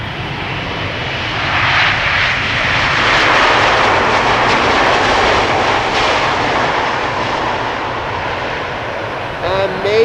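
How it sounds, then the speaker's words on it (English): An Icelandair Boeing 767 jet roars past at Amsterdam Schiphol Airport, a loud, sustained engine rumble and whine that swells and slowly fades, close and powerful. "maybe that loud 767 from Iceland Air, that was immense."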